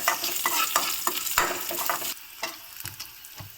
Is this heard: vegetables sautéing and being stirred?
yes